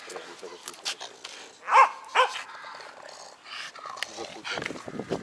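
Corgi on a leash barking and yapping excitedly at another dog during a walk by a pond in Kaliningrad, a run of sharp close barks with growly whimpers, while people talk over it.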